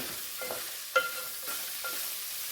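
Mixed vegetables (peas, carrots, green beans, broad beans, chickpeas and eggplant) are stirred and sautéed over a raised flame, with soft sizzling and a few scraping stirs, one sharper knock near the start.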